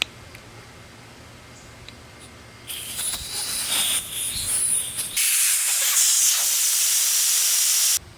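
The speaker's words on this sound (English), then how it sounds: "First, let the air out of the tire." Air hisses steadily out of a car tire through the open valve with the valve stem removed. The hiss is close and loud, starts partway through, then grows brighter and stronger and runs on without a break.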